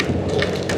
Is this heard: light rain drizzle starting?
yes